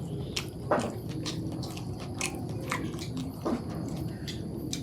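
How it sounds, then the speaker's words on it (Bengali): Someone eating a home-cooked bean and potato curry, with soft, close bites and moist chewing at an irregular pace over a quiet room background, no talking. "আর আমার মায়ের হাতের তরকারি খাই দেখি"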